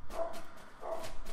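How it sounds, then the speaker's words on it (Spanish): A dog barks twice in a video game, two short, fairly close woofs about a second apart. "Sí, perro, ladre y ladre."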